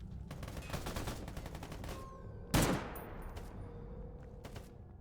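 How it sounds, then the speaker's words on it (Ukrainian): Rapid bursts of Kalashnikov automatic rifle fire rattle off in the game S.T.A.L.K.E.R. GAMMA, followed by one loud, sharp blast that rings out, then a final shot. "Із калаша зараз постріляємо"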